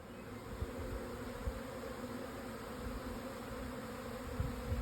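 Continuous low buzzing of a large bee swarm around a hive, thick and unbroken, with occasional soft thumps near the microphone.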